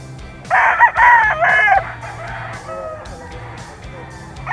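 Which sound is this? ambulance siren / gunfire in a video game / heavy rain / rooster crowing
rooster crowing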